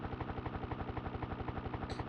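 Helicopter rotor in the Jack Copter video game: a steady, rapid low thumping pulse, synthesized and evenly repeating, with a brief high chirp near the end.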